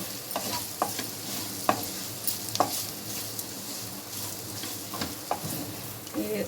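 Carrot fry being stirred in a pan with ground roasted peanut powder, a spoon or spatula scraping at irregular intervals over a steady soft sizzle, close and fairly quiet, with no talking.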